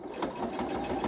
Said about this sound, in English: So starting in about an inch, and I'm going to backstitch and just take it round.